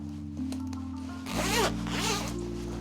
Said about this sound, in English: But zipper's alright, it's just a plastic zipper.